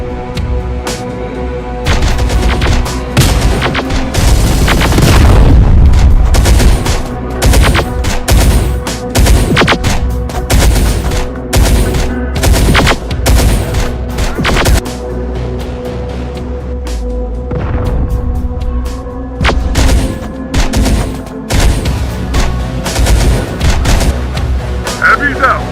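Gunfire in the Terminator Dark Fate Defiance video game comes as sharp, loud repeated shots and volleys crackling across a battlefield, with deep booms and radio-style voices between them.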